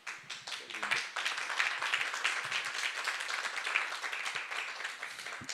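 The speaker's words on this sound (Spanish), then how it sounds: "Muchas gracias por esos aplausos." An audience claps together in dense, sustained applause that swells and holds at moderate loudness, a crowd at a talk on moods and wellbeing.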